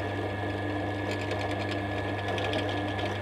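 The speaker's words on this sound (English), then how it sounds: "This is a 3mm pilot hole for a 6mm drill." A small electric drill whirs at a steady, high-pitched drone, boring a 3mm pilot hole mostly through cardboard, its motor running continuously at close range for a few seconds.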